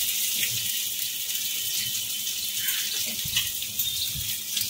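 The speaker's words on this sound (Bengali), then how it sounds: "মিক্সির জারটা ধুয়ে একটুখানি জল দেবো" Kitchen tap water streams continuously into a sink while a mixer jar is rinsed during home cooking of a Bengali potato dish, steady and close, with faint clatter underneath and no talk.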